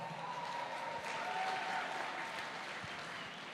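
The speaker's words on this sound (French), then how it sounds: "C'est pas très fort comme applaudissement pour une 3e place quand même." A modest crowd at an indoor horse show claps in a thin, even patter for a rider placed third, fairly faint and steady, with a faint tone sounding over it.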